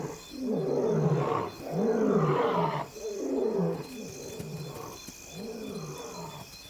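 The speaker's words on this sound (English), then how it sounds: "Their roars travel further after dark when the air is cooler." Male lions roar at night near the Luangwa river, giving four long, deep, loud roars one after another, each fading into grunting breaths, close and with no voices.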